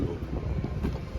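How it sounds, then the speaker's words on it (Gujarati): Wind gusts buffet the microphone outdoors on a cool, cloudy day of travel near Bhavnagar, a loud, continuous low rumble with no voices. "પવન છે"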